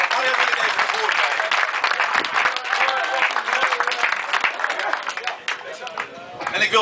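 Warm, sustained applause fills a room at a sailing club award ceremony, many hands clapping densely and steadily for a volunteer, with crowd babble and a voice heard beneath it.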